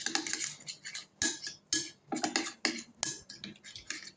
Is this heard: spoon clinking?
yes